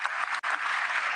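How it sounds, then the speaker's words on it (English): Delegates at the FIFA Congress in Vancouver give a brief round of applause, a dense, even wash of clapping across a large hall with a momentary dip before it resumes. "a big applause and a big thank you"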